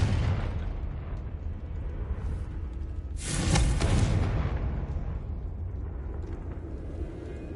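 Confringo spell explosion in Hogwarts Legacy, a single loud burst about midway through over a steady rumbling game ambience, then fading back to the background bed.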